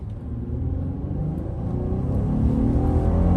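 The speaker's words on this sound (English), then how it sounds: "I want you to listen to the VTEC." A 2021 Honda Ridgeline RTL-E AWD with its VTEC engine pulls hard from inside the cabin, a deep continuous rumble building steadily in pitch and loudness as it accelerates, with no talking.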